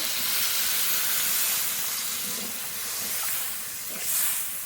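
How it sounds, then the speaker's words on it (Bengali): Water poured into a pan of spiced potatoes cooking for an egg curry makes a loud, steady sizzling hiss close by. It keeps going throughout and swells briefly near the end. "এবার জল দিয়ে দেবো জল"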